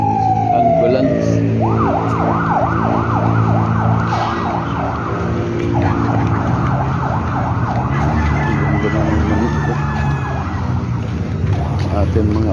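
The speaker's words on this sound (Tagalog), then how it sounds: "Ambulance." An ambulance siren wails in repeated rising-and-falling sweeps, loud and close, over a steady low rumble of traffic or an engine for most of the stretch.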